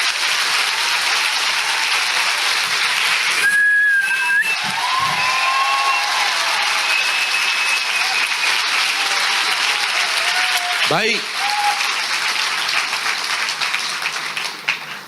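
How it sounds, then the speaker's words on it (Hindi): A church congregation claps loudly and continuously during a worship service, with shrill whistles piercing through at moments and a brief spoken word near the end. "आइए प्रभु के लिए एक जोरदार ताली बजाएंगे"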